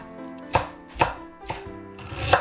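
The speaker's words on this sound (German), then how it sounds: "Lauchzwiebeln in Scheiben schneiden" A knife slices spring onions on a cutting board: four crisp, evenly spaced chops about half a second apart, close and clear with no talk.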